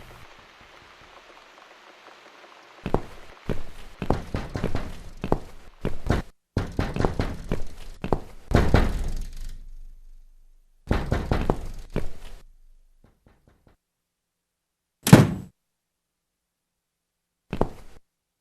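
Knocking on a door in The Cat Lady game: several bursts of loud, close raps in quick clusters, then pauses and a couple of single heavier knocks, with no talking.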